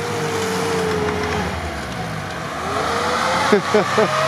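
Lada Niva engine droning steadily as it accelerates off-road up a sandy hill, the pitch rising toward the end along with a few bumps, while someone talks over it.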